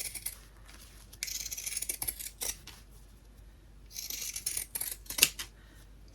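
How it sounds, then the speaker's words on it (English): Pinking shears snip through fabric while a mug bag is cut to size, giving bursts of crisp, close cutting crunches separated by quiet pauses, with a louder sharp click near the end. "So I'm using my pinking shears because I can."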